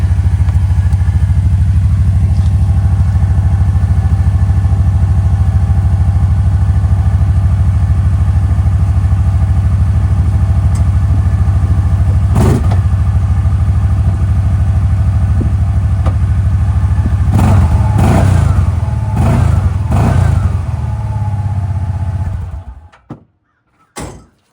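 A 2023 Kawasaki runs on its factory exhaust, a loud, close, steady low mellow idle with a few short revs and knocks near the end before the engine cuts off abruptly, no talk.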